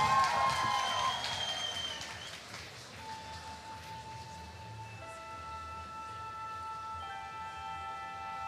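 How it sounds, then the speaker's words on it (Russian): Applause from a theatre audience, loud at the start and then fading into a softer, sustained crowd wash with a few steady tones over it, no talking. "Ваши аплодисменты."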